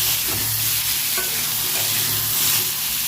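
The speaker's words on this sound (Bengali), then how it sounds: "এবার আমটা ভেজে নেবো।" Green mango pieces fry with salt and turmeric in a hot pan, giving a steady, dense sizzle that holds even throughout, with no voices over it.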